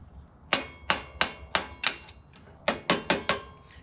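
A hammer striking a metal punch while working on a Jaguar MKII front seat: about ten sharp, ringing metallic taps in two bursts, close and crisp, with a brief pause between them.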